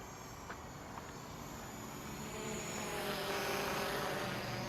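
Snaptain SP510 drone flying on its fastest level-3 mode, a steady broadband whirring hum that swells slightly louder partway through, heard alone at moderate distance.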